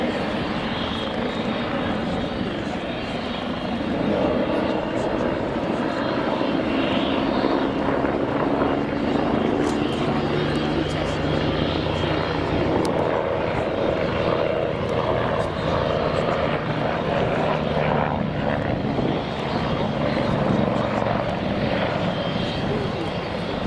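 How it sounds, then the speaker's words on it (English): A Belgian Air Force Agusta A109 helicopter flies a display at an air show at full power, a continuous loud rotor and engine roar that persists throughout while a commentator talks over it. "Rolling back out then on the main A-axis, coming up to full power, and pulling up into another high turn."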